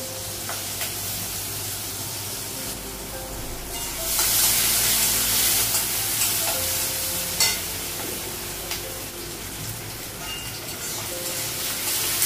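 Cardamom and garlic fry in oil in a home kitchen pan, a loud continuous sizzling hiss that swells sharply as ingredients hit the oil, with occasional stirring clinks and no speech.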